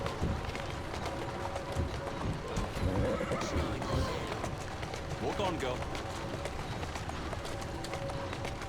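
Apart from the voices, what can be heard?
horse hooves trotting in Assassin's Creed Syndicate video game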